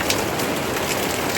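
Steady rain falls in a dense, even hiss, loud and close, spattering continuously on surfaces outdoors with no pauses or voices.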